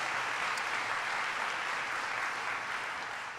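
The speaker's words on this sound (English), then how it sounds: "Let's give them a round of applause" Steady crowd applause at a Governor Cuomo announcement in Erie County, a dense wash of clapping that holds evenly for a few seconds and eases slightly at the end.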